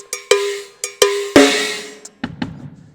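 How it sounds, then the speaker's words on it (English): Cowbell on a drum kit is struck repeatedly in an uneven pattern, sharp metallic clanks ringing briefly with a slight rattle, close and clear, with a few softer hits near the end. "I like this just for how it goes with the cowbell as I hit the cowbell"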